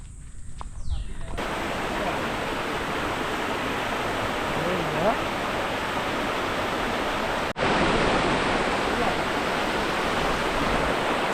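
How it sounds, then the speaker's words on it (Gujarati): A monsoon waterfall in the jungle at Pavagadh roars as a steady, dense rush of falling water, loud and unbroken, briefly cutting out for an instant before surging back even stronger. "પાછળ છે વોટરફોલ વોટરફોલથી પાણી આવે છે"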